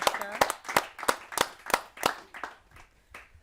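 Audience clapping for a senior woman poet at a Hindi kavi sammelan, a series of sharp, evenly spaced claps that thin out and fade toward the end.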